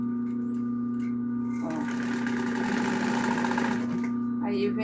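A sewing machine stitches a seam on a small fabric bag. A quick run of rattling stitching lasts about two seconds over a constant motor hum, close by, with soft voices in the room.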